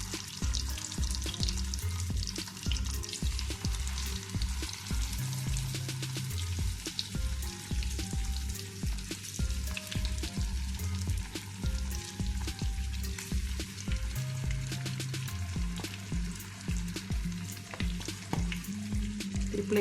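Egg-coated idi mutta frying in hot oil, a steady, close crackling sizzle that stays even throughout, with faint low clatter beneath and no voices.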